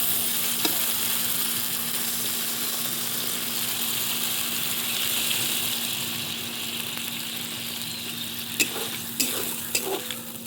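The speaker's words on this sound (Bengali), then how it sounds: "এরপর টমেটোটা দিয়ে তার উপর আরেকটু লবণ দিয়ে ভালো করে মশলাটা কষিয়ে নেব।" Tomato and spices for a katla fish and eggplant curry are fried in a pan with a steady, hissing sizzle, joined near the end by a few distinct clinks and scrapes of stirring. Nobody speaks.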